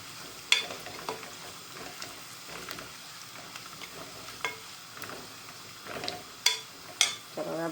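Cumin, ginger and garlic frying in a pan while being stirred, soft sizzle under irregular scraping and sharp clicks of a utensil against the pan.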